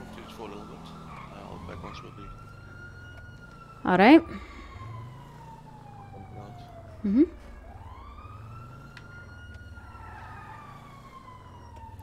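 Distant police sirens in a GTA roleplay city wail in slow rising and falling sweeps under a steady background hum, while a voice briefly speaks and two short sharp bursts cut through midway.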